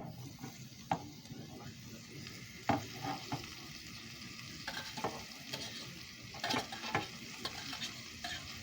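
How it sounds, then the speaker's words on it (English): Vegetables browning and sautéing in hot oil for a chicken and mushroom dish, giving a steady close sizzle broken by scraping, clacking stirs from a utensil, with no talking. "Then I'm going to brown and saute these vegetables in this oil."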